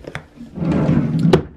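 A small dresser drawer slides open with a wooden rub and ends in a soft thunk, close and fairly loud.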